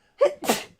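A single human sneeze, a quick two-part burst of a short intake and a forceful, breathy release, close and clear.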